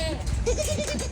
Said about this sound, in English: Look at them little cute goats.